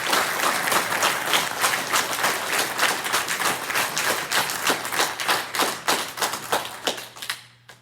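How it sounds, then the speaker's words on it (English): Audience applause at an FFA awards banquet, dense crowd clapping sustained for several seconds, close and even before thinning and tapering off at the end. "Please join us in giving Jose a round of applause."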